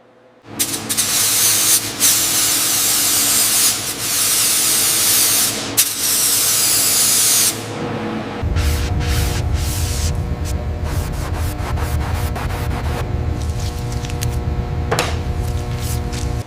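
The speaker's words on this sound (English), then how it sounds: "Setting the amperage and weld." Welding during a Rolls-Royce Ghost ground-up rebuild, a steady loud hiss and crackle holding for about seven seconds, then shifting to a rougher, buzzing arc with fluttering crackles that continues to the end.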